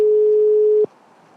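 A single steady telephone ringback tone sounds loud and clear for under a second while a call is placed, then cuts off abruptly into faint line hiss.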